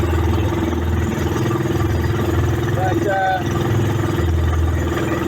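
Sumo SR150 racing engine driving a Paradise trimaran at sea, running as a steady mid-pitched drone at about 1,200 RPM while someone talks over it.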